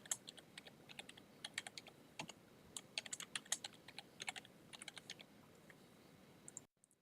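Rapid, uneven keystrokes on a computer keyboard as a new password is entered, close and clear with no voices, ending abruptly before a short silence.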